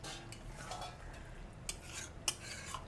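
Mutton kosha being stirred in a pan, with soft scraping and a few clinks of a metal spoon against the vessel, quiet and close with no talking.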